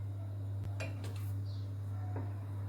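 Mosaic cake mixture being stirred in a pot on a stove, with a few light metallic clinks and scrapes of the utensil against the pot over a steady low hum.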